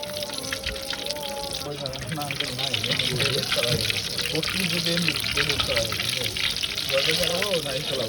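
Prawns frying in a pan for a Bengali chingri fish fry, a steady dense sizzle and crackle running throughout, close and moderately loud, with voices chattering underneath.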